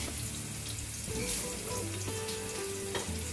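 Onions sizzle and fry in a pan with sugar and salt while a utensil stirs them, a continuous bright crackle with faint scraping and clinks, close and steady, with no talking.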